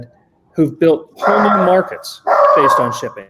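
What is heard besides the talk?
dogs barking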